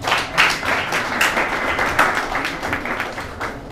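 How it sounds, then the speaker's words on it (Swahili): Scattered audience applause at a talk on Imam Khomeini's philosophy and ideas, a few seconds of loose, irregular clapping of moderate loudness that thins slightly toward the end. "Naomba jamani tumuongezee basi makofi kidogo jamani."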